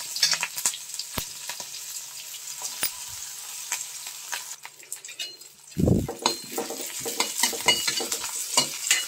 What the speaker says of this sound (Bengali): তো এই তেলের মধ্যে আমি দিয়ে দিচ্ছি রসুন কোয়া, সাথে লঙ্কাগুলো দিয়ে দিচ্ছি, ঠিক আছে, সাথে দিয়ে দিচ্ছি পেঁয়াজ